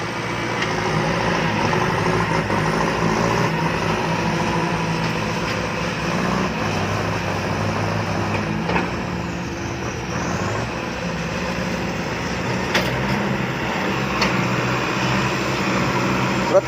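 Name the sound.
six-wheel truck engine revving climbing out of a pit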